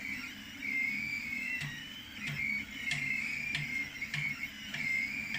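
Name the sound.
3D printer extruder skipping, not feeding filament properly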